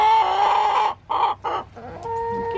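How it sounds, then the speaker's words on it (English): Nearby chickens cluck and squawk: one long call, two quick bursts, then quieter murmuring clucks trailing off. "Oh gosh, what chickens."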